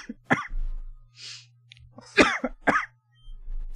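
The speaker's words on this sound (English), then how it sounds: "And now the coughing starts." Several harsh coughs and a throat clearing sound in short bursts, close and fairly loud, with quiet gaps and a low background hum between them.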